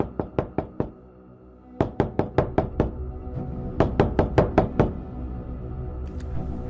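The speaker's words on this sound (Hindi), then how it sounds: "गुल्ली घर के गेट पे पहुंच के गेट को खटखटाने लगता है।" Knocking on a house gate comes in three sharp bursts of rapid raps, four or five strikes each, separated by short pauses, loud and close with a metallic ring; no one speaks.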